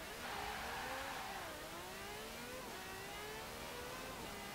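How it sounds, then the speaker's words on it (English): A 1989 Ferrari F40 Competizione in Forza Horizon 4 revs hard, its loud engine note climbing and dipping through gears in a sustained high-pitched whine, close and alone. "extremely high revving now. Yeah, sounds insane."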